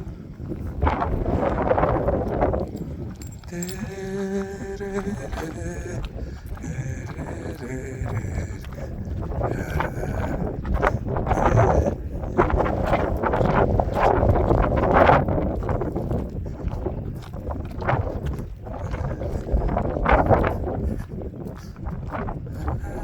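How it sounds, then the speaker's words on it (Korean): Strong wind buffets the microphone in a steady, roaring gust throughout a rainy-season countryside dog walk, with a voice speaking over it at times. "아따 바람 많이 부네 태풍까지 부냐"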